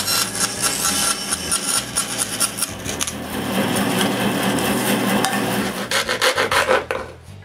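The bandsaw-cut arch top of a plywood sign is smoothed by hand, giving rhythmic rasping, filing strokes, close and loud, steady in the middle and choppier toward the end, with no talking.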